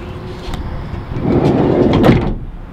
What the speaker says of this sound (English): So dual sliding cargo doors again, which it's sliding closed on us there.